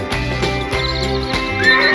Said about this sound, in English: The horses live in a barn.